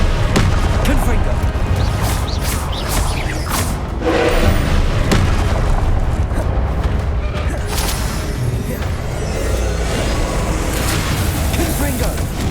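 Confringo spell blasts in Hogwarts Legacy hit with heavy booms and thuds, loud and near, amid continuous game noise and spell casting in the background.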